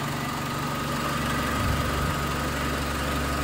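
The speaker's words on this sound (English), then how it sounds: "she is idling smoothly" A vehicle engine with a newly replaced ignition coil idles smoothly, a steady low rumble with even vibration, close by and without speech.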